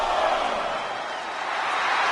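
A wrestling arena crowd in WWE 2K25 keeps up a steady, dense roar of cheering throughout, with no single voice standing out.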